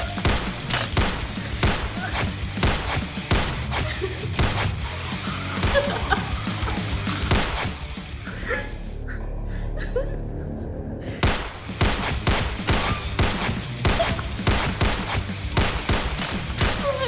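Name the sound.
gunfire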